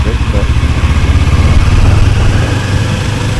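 A 2025 Kawasaki Ninja 500 SE KRT motorcycle rides slowly in second gear with the clutch slipping and the brake dragging. Its engine drones loud and steady throughout, with wind rumble on the microphone.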